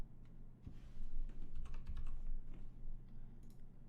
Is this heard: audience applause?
no